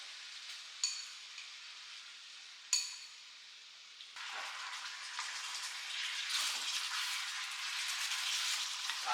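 Beef is stir-fried in a wok, starting with quiet hissing broken by two sharp clatters, then a louder, fuller sizzle that builds and stays steady.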